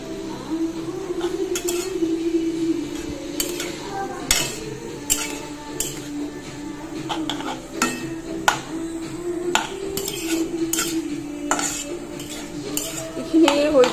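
A spoon scrapes and clinks against a metal pan while fried vegetables with salt and turmeric are stirred, giving irregular close knocks and scrapes over a faint low sizzle.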